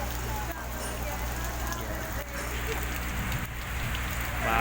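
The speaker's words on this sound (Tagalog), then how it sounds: "Umuulan, maya maya titigil din to." Steady rain falling in an outdoor rose garden in Baguio, a continuous broadband hiss of drops pattering on surfaces, with a low rumble underneath and no pauses.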